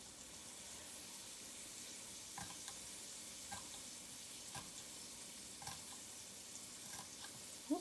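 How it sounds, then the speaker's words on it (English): Cubed green peppers frying in a pan with red peppers for breakfast burritos, a soft steady sizzle with occasional spatula taps and stirring clicks, fairly faint. "Cut my green peppers into little cubes, and I'm gonna throw them into the pan with my red peppers"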